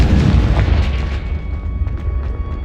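Confringo blast spell from the Hogwarts Legacy video game, a loud booming explosion right at the start that rumbles and crackles away over a couple of seconds.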